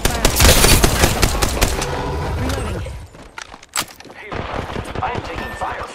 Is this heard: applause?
no